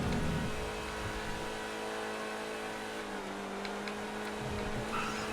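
Engine drone of a Zion Classic LM being chased in a GTA FiveM race, a steady mid-level hum that holds for the whole stretch with a slight pitch shift partway through, no talk over it.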